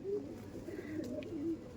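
A pair of Andhra pigeons, male and female, coo softly nearby in a loft, giving low, throaty repeated coos over faint background noise.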